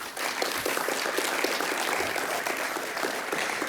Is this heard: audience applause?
yes